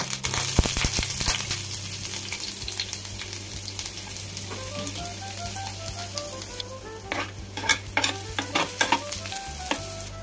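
Small onion pieces fry in hot mustard oil for a chicken liver fry, giving a steady close sizzle, with spatula scrapes and stirring strokes growing more frequent toward the end. No one speaks.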